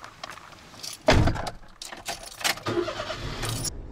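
A kei van on a long solo road trip sets off, with a loud thump like a door closing, then a short burst of engine and road noise that settles into a steady car rumble.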